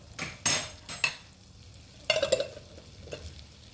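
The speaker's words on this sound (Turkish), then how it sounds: "bu karışımı bir parça kızartalım." Brief bursts of sizzling and a spoon scraping a pan as a mixture with red pepper flakes is stirred and fried for Çeşmi Nigar soup, with short pauses between strokes.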